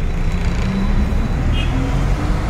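An APSRTC bus pulls away from the Tenali market bus point, its engine a steady loud low rumble close by with busy street noise around it.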